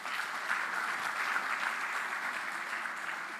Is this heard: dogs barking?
no